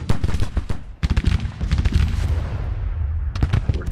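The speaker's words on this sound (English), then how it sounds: "Alright, the artillery is starting to open up." Artillery fire in the Civil War strategy game Grand Tactician: Civil War, a loud rolling barrage of booming cannon shots with overlapping reports, steady and dense across the battle.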